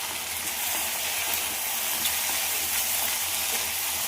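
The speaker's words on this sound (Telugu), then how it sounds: "ఈ కారము చికెన్ ముక్కలకి బాగా పట్టాలని, పట్టేంతవరకు 1 నిమిషం ఇట్లానే వేయించుకుందాము." Chicken pieces with jackfruit seeds, green chilies, chili powder and coriander powder fry in a pan while being stirred, giving a steady, loud, dense sizzle with no talking.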